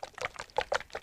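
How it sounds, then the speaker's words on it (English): Epoxy hardener is tipped into resin while working on a GS1000 motorcycle, a short liquid pour with uneven gurgling bursts close to the mic. "tip the hardener into the epoxy"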